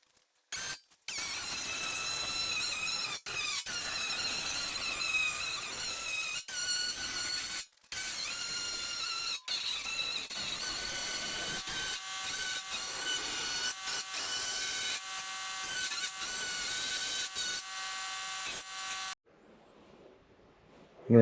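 A saw cuts steadily through the steel quarter panel of a 1965 Chevelle, making a continuous, harsh, close rasp that runs for about nineteen seconds before stopping abruptly.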